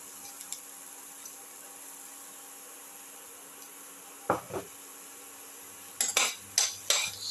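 Garlic and shallots being sautéed in a pan, heard as quiet background hiss with a few metallic utensil scrapes and clinks against the pan, including a cluster of sharper stirring knocks near the end.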